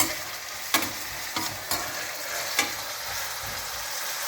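Crushed garlic and ginger sizzle steadily in a pan, broken by a few sharp scrapes and clacks of stirring at irregular intervals.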